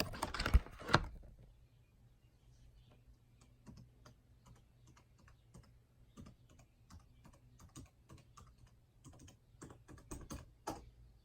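A password is typed on an Alienware Area 51m laptop keyboard: soft, irregular keystrokes in short quiet runs, after a couple of louder knocks at the start, in an otherwise still room.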